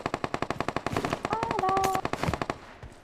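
Rapid automatic gunfire in PUBG Mobile, an evenly spaced rattle of shots running nearly the whole three seconds, loud and close, with a brief tonal game sound overlapping midway.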